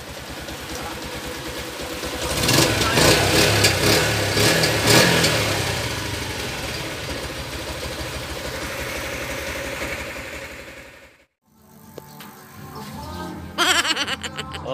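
A Yamaha Sniper 135 motorcycle, freshly repaired after a broken piston, idles with a steady low mechanical rumble close by. The engine briefly dips out near the end, then picks back up.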